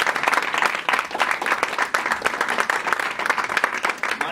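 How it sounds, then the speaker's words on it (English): Dense, sustained applause from a crowd at the women's golf state championship awards at Morro Bay Golf Course, many hands clapping continuously and fairly close. "Round of applause to everyone."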